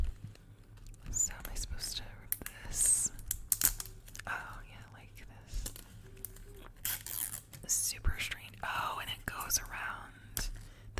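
Plastic packaging being peeled and crinkled off a kids' ASMR toy, close-up intermittent rustles and tears, with whispering between them.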